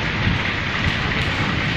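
Rain falling at night on a sandy fishing spot in strong wind, a dense, steady hiss of heavy rainfall close by, loud and unbroken for the whole moment, with no talk.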